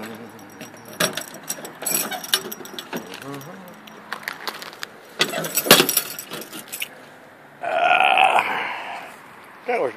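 A bunch of keys jangles up close in bursts of metallic clinks while someone collects the mail from a mailbox. A person talks throughout.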